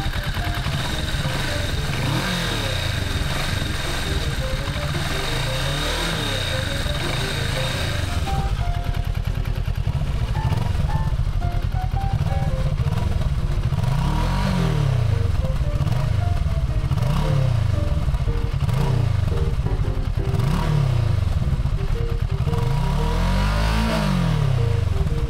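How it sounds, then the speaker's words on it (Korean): A Kawasaki Vulcan S cruiser motorcycle engine idles with a deep, rumbling exhaust note, then is revved repeatedly in loud surging bursts, with no talk. "이제 가볍게 배기음을 한번 들어보도록 하겠습니다"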